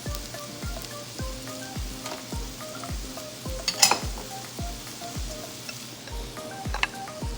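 Rice stir-fries with shrimp in a pan, with a low sizzle under regular, close metallic scrapes and taps of the spatula, about two a second. No one speaks.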